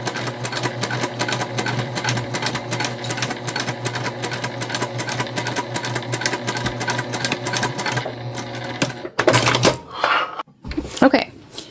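A sewing machine stitches the corners of a fabric makeup bag, its needle running in a fast, loud, steady mechanical patter up close for several seconds. It then stops, followed by a few handling clatters.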